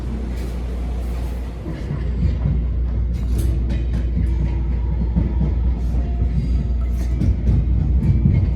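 A subway train rumbles steadily along the rails with a low continuous roar and faint clicking, loud and close as if heard from inside a car.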